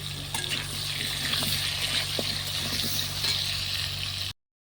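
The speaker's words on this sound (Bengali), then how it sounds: "আলুগুলো লাল করে ভেজে নেব" Potatoes fry in oil in a pan over a clay stove, a continuous close crackling sizzle with occasional stirring taps and a low hum beneath, ending abruptly.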